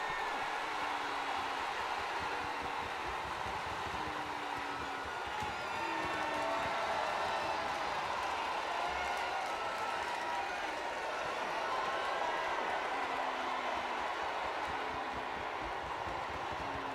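A wrestling crowd in the WWE 2K22 video game at a WrestleMania event, a continuous dense roar of cheering and chanting that stays loud and even throughout, with no one speaking over it.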